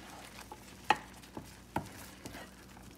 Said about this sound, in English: So mix it all together.